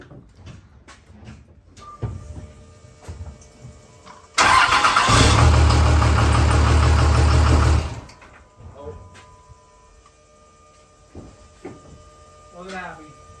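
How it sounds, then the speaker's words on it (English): A truck engine fitted with bigger injectors fires up into a loud, dense roar for about three and a half seconds, then cuts out abruptly. Quieter talking and handling noises come before and after it. "Ready to fire this thing on"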